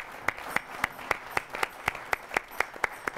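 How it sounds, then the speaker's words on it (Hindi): Steady rhythmic clapping from the audience at a Holi kavi sammelan poetry gathering, distinct sharp claps falling at an even pace of about three to four per second over a quiet background. "तालियां रुकनी नहीं चाहिए।"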